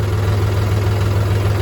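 A tractor's diesel engine runs steadily nearby, with a continuous deep rumble and vibration that stays loud and even throughout, and no voices over it.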